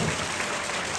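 Applause from an audience at a regional conference event for Cedric Thomas, a dense steady wash of clapping filling the short moment with a murmur of crowd noise.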